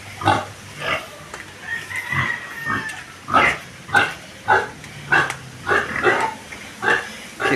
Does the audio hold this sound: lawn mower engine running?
no